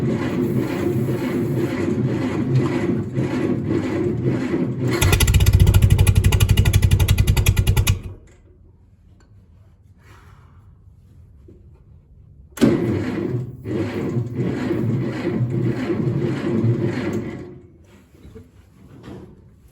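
Massey Ferguson tractor engine cranking and trying to start: about 5 seconds of rhythmic starter churning, a loud rough surge, then a quiet gap before another stretch of labored cranking that fades out.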